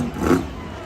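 A bright green Chevy Bel Air-bodied monster truck revs its engine once in a brief, loud roar at a Jacksonville freestyle event, the surge swelling and fading within a second.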